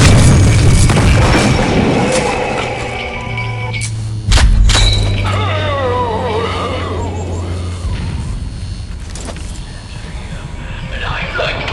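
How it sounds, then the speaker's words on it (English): A grenade blast in a World War Heroes shooter game, one loud booming explosion with crackling debris and ringing tail, among gunfire and other game noise. "Throwing a grenade!"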